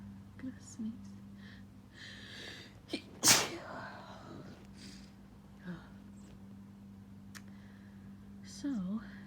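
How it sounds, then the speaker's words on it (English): A sudden, sharp sneeze from a grass allergy bursts out alone near the middle, framed by quiet breathing and a few soft voice sounds before and after. "Gonna sneeze."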